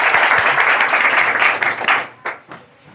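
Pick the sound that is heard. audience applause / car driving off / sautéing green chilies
audience applause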